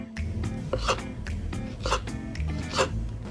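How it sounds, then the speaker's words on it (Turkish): A knife slicing a banana for a layered biscuit-and-hazelnut magnolia dessert: three soft, damp cuts spaced about a second apart, close and moderately loud, over a faint background. "Muzumuzu en son doğruyoruz kararmasın diye"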